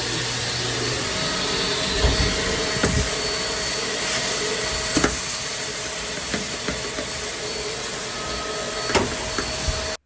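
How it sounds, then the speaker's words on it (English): A vacuum cleaner sucking debris out of the blower motor box of a Squarebody Chevy K10 truck, a steady loud whine and hiss with occasional knocks and rattles of material through the hose. "I came out here to vacuum out the blower motor box"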